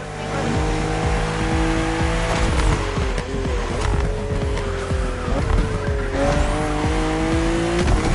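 BMW M2 and M4 race cars from 2013–2014 series in The Crew Motorfest, engines droning and shifting pitch with tire squeal through sharp bends on a narrow road, loud and continuous without voices.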